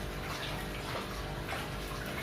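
An aquarium filter runs with continuous water flowing and splashing, a soft steady gurgle at moderate level throughout, with no voices.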